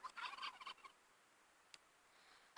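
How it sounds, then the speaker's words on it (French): A wild turkey gobbles in the Last Day on Earth video game, a short rapid burst of fluttering calls at the start, followed by near silence and a sharp click at the end. "Il y a une dinde sauvage"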